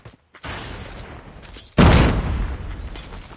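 Frag grenade blast in Call of Duty Mobile during a search-and-destroy match: a sudden loud boom bursts out midway after a brief lower rumble of gunfire and ambience, then decays into lingering noise.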